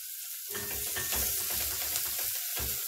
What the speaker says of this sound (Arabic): بقى كده يعني نص بصلايه او بصلايه كده صغيره، وهنزل عليها بشويه صغيرين جدا من الزيت.